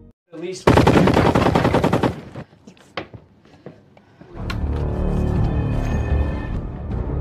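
A rapid burst of automatic gunfire in The Walking Dead season 8 rings out for over a second, followed by a few scattered sharp shots and clatter, then a steady rumbling background.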